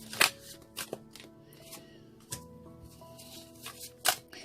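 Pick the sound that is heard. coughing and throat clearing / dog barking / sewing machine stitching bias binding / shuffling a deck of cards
shuffling a deck of cards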